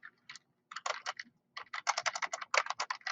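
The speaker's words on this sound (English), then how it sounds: "And we'll just type in Sean Connery." Fingers type on a computer keyboard to enter an actor's name into a Microsoft Access query, producing a close, quick burst of clicking keystrokes, a brief pause, then a faster run of keys.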